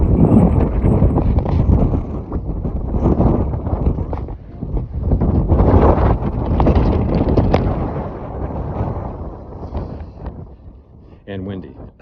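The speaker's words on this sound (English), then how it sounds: "And windy." Strong wind buffets the microphone at the McAfee Knob overlook on the Appalachian Trail, roaring in loud gusts that rise and fall throughout.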